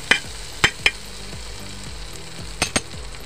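Margarine melting in a pan for a simple cassava cake, giving a steady soft frying sizzle with a few sharp clinks of a utensil against the pan scattered through.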